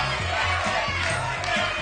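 A game show studio audience shouts suggestions at once, a steady crowd roar of overlapping voices at moderate loudness.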